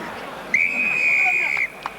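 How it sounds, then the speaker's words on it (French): A rugby referee blows one sharp, sustained whistle for a penalty, lasting about a second, over crowd murmur during the 1997 Brive versus Pontypridd match. "l'arbitre siffle une pénalité"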